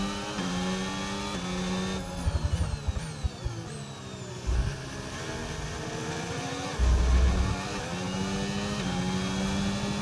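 A Formula 1 race car engine screams in the F1 25 video game at the Azerbaijan Grand Prix, its whine climbing through rapid gear shifts and then dropping on downshifts, loud and alone.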